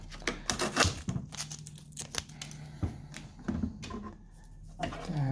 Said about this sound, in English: I'm gonna remove fixing tapes.